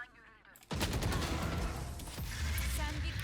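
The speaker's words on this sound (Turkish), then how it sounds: "Kim sıkıyor? Bot sıkıyormuş." Bot gunfire in Valorant erupts as a sudden loud, dense burst of rapid shots that continues steadily, with voices talking faintly over it.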